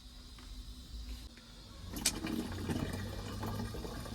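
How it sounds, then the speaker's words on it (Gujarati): Water is poured by the glassful into a cooking pot of gravy for basmati rice, starting with a sharp splash and settling into a steady, moderately loud pouring rush over a faint background hum. "આમાં છે ને આપણે 9 ગ્લાસ પાણી નાખી દેવું."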